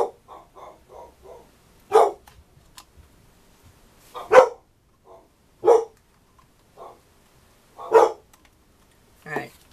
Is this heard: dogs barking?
yes